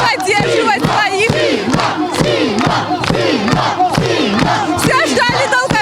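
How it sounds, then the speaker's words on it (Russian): A dense crowd of football fans at a Tajik match chants and cheers loudly in rhythmic, repeated shouts with sharp clapping beats, a continuous roar from close by. "Но это не мешает болельщикам поддерживать своих."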